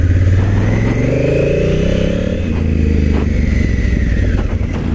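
Honda Africa Twin motorcycle engine revving up and easing off, a loud, close, steady throaty drone with rising and falling pitch and no voices.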